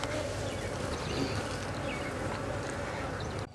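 Honey bees from two very active side-by-side hives buzzing in warm weather, a dense continuous hum close by and steady throughout, with no talk.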